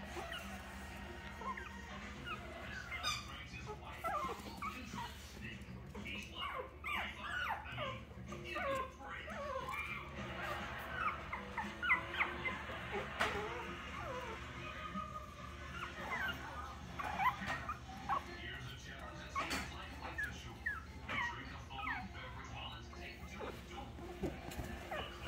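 Four-week-old puppies whimper, yip and squeak in a steady scatter of small high cries, fairly close and soft, while a person talks intermittently in the background.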